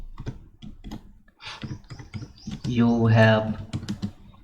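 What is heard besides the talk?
typing Python code on a computer keyboard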